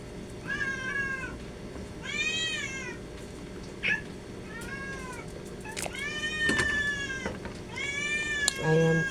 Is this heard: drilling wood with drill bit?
no